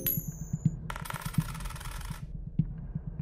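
A coin flip in the Fear & Hunger game gives a brief metallic clink and rattle as the coin lands heads. It sits over quiet, steady rhythmic thumping at low volume.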